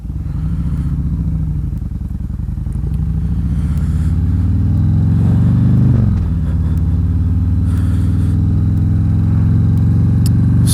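A motorcycle engine idles and runs close by with a loud, continuous low rumble that swells slightly midway and holds steady throughout, with no voices.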